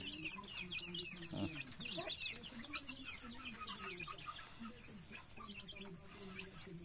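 Darag native chickens on a farm, clucking and calling softly at mid distance in a loose, irregular chatter, with crickets and insects buzzing steadily in the background.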